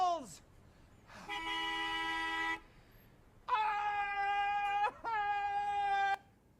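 AI-generated car horn honks from a wizard stuck in traffic on a broomstick, three long sustained blasts with short gaps, loud and close, preceded by a brief yelp.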